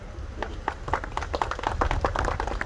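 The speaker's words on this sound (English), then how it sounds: "Please give him a hand of applause." An audience at a formal solidarity gathering with diplomats and guests applauds, many overlapping claps forming a steady, moderately loud patter that continues throughout.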